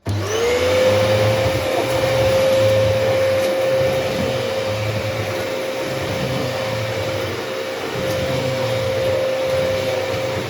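A refurbished Dyson DC14 Origin vacuum cleaner with a replacement motor runs on wooden flooring, a loud steady motor roar with a constant high whine throughout, no voices.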